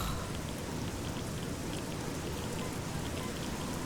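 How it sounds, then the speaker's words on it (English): Steady acid or radiated rain falling in the video game Fallout 3, a dense even hiss of raindrops hitting surfaces, continuous and fairly quiet with no voices. "Is that like acid or radiated rain?"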